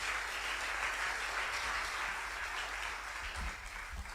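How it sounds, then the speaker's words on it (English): Audience at a high school debate between Presbyterian SHS Bompata and Osei Tutu SHS clapping for a regional director, heard as a broad, steady wash of applause from a large hall, continuous and somewhat distant. "a round of applause one more time for Mrs. Mary Osei"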